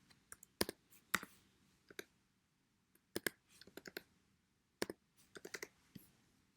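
Sharp computer mouse clicks while an IBM Partner Engagement Manager logistics setup screen is operated, coming as isolated clicks and quick double clicks with short pauses between them, close and crisp against a quiet room.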